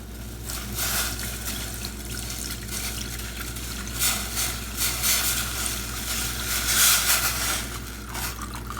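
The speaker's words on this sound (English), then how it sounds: "now I'm going to add the claret" Claret wine poured into a pot of boiled spices, a continuous liquid stream gurgling and splashing, steady and close, rising in the middle, with no talk.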